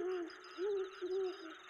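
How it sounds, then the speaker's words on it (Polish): Owls hooting in the horror game Your Turn To Die, a few soft, low, drawn-out hoots repeating at close range over a faint background hum. "A czy musicie aż tak głośno słyszeć sowy huczące?"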